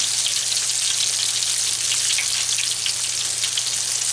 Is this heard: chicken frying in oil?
yes